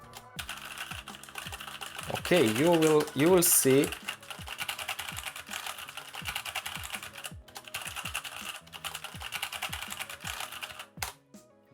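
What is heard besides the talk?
typing on a Bluetooth mechanical keyboard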